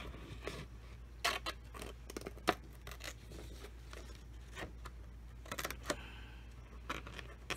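Scissors snipping around a laminated sheet, a series of irregular crisp cuts and crunching plastic scrapes up close over a low steady hum.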